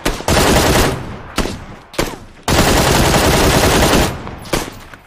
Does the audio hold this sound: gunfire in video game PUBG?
yes